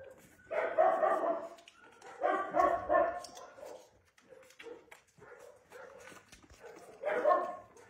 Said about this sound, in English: The puppies of Petroula.